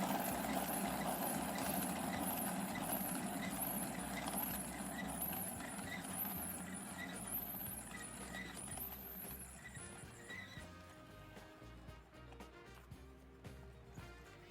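A spin art machine whirls a canvas with a steady, loud motorized hum and whir that runs continuously, easing slightly toward the end.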